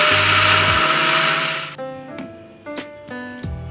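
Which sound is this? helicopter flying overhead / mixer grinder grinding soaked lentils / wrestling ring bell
mixer grinder grinding soaked lentils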